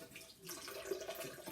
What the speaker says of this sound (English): I'm dumping out some of the water because tomatillos have a lot of liquid,